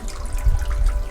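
Mountain spring water trickles and splashes steadily at a Japanese shrine, close and fairly loud, with no voices.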